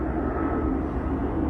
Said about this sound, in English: What you hear right now is the airplane.